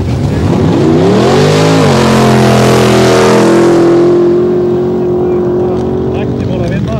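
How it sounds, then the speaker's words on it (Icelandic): The big engine of Iceland's largest-engined street car roars hard on a sand drag strip, rising sharply in pitch then holding a loud, sustained high-revving drone before easing off, with an announcer talking over it. "Þetta er stærsti mótor götubíl á Íslandi."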